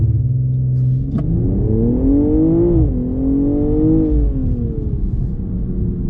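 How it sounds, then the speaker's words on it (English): A 2022 BMW M240i xDrive G42 coupe with all-wheel drive makes a hard launch, its engine climbing in a steady loud drone through the gears, heard close and continuous with no talking. "That all-wheel drive launch is just phenomenal."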